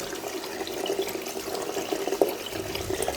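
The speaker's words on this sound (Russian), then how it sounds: "Сейчас рис хорошенько отмою." Water splashes and swirls as rice is rinsed by hand in a bowl for plov, a close, continuous sloshing with small gurgles and a brief clink.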